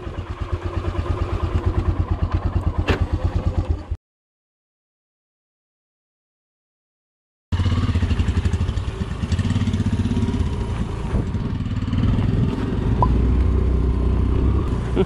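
A Royal Enfield Himalayan motorcycle engine runs steadily with a mid-pitched rumble on rough roads near Balukpong, cutting to silence for a few seconds before the engine noise returns.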